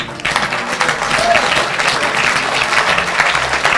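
A church congregation at a deliverance service claps and acclaims the Lord, a loud, sustained wash of many hands clapping together with crowd voices, steady throughout.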